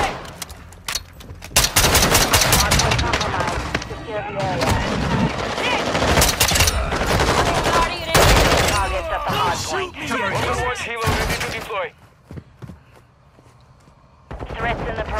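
Loud, dense bursts of automatic and single gunfire crackle and boom throughout a shooter video game, with shouted voices mixed in and a brief lull near the end.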